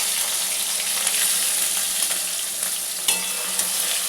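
Spices and tomato frying in a pan for vegetarian khichri make a loud, continuous crackling sizzle close up, with light stirring scrapes and one sharper clatter partway through.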